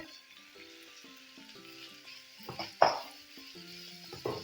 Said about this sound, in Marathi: आता सगळं आपण हे एखादा मिनिट छान परतूया